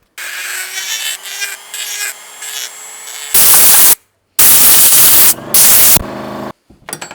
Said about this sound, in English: I got to go grind on the heat shield real quick